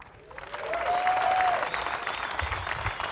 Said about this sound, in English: So a big round of applause for the athletes.